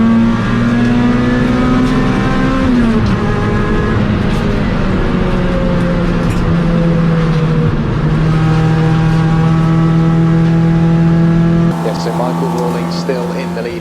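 Race cars including a BMW and a Honda Civic roar around Cadwell Park during a Trackday Trophy race, engines droning loud and continuous with shifting pitch as they accelerate, under constant excited commentary.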